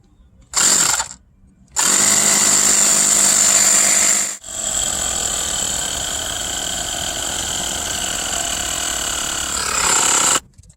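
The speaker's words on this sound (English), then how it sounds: "I've got my little compressor set up. Let's turn this on and bring this up to 50 psi" A small portable air compressor pumps up rear air bag suspension on a 2016 Toyota Tacoma, running loud and close with a steady buzzing drone after a short start and stop, then cutting off.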